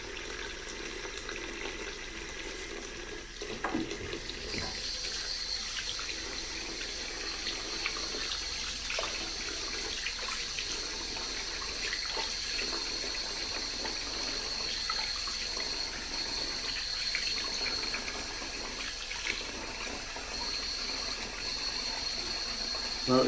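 Water runs steadily from a tap to soak a hairpiece, a continuous hissing, splashing flow that holds for over twenty seconds, with faint knocks and shifts of pitch as the stream changes.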